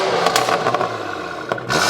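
BMW G81 M3 Touring with a double resonator delete, its exhaust revving loud and close in a few sharp bursts over a steady rumble, with no talking.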